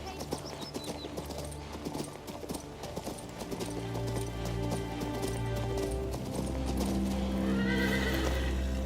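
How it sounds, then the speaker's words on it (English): Horse hooves clip-clop steadily while the horse neighs and snorts in the video game King's Bounty II, with a voice speaking under the sound in the game. "Far is going to bring a horse from the village."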